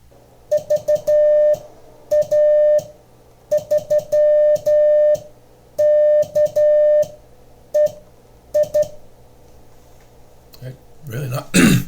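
A Morse code call sign tapped out as a steady pure tone, short dits and longer dahs in clustered groups, clear and upfront, ending with a brief rustle.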